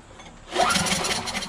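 A Briggs & Stratton 550EX engine on an MTD Yard Machines 21-inch push lawnmower, running on choke, sputters into a brief rough start after a quiet moment, a close, raspy mechanical churn.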